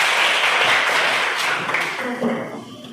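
A classroom of students claps their hands together during a morning lesson, a dense, steady patter of many hands close by that thins out toward the end, with children's voices mixed in.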